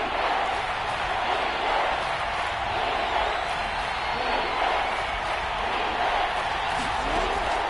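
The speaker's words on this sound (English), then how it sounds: "the crowd getting into it as we come up on a big 3rd down" A stadium crowd in a PS4 American football video game roars steadily before a big third down, a constant, even wall of cheering with no break.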